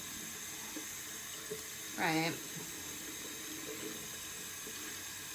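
Tap water running into a sink while makeup brushes and sponges are washed, a brief close gush lasting under a second amid quiet room noise, with a short spoken word.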